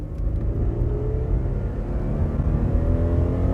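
A 2008 Ford Taurus X wagon accelerates hard, its engine rising into a loud, steady roar with rising whine heard from inside the car.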